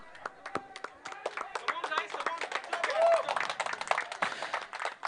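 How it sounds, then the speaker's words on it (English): Applause and clapping from a crowd at a prize distribution ceremony for a cricket-style match, dense and steady for about five seconds with cheering and voices mixed in. "A big round of applause for Turf Royals, please."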